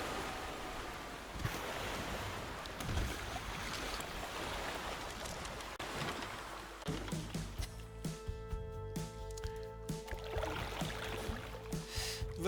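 River water rushes beneath a raft in The Flame in the Flood as a broad, steady wash. Midway, a quieter stretch brings in soft musical tones over the flowing water, with no speech.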